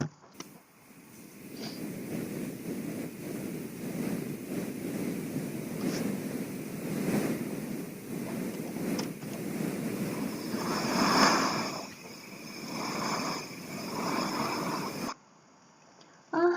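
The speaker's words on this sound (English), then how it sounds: "Yes, it is hurricane." Roaring hurricane wind mixed with crashing waves, a steady broadband rush that swells and eases over about fifteen seconds before cutting off abruptly.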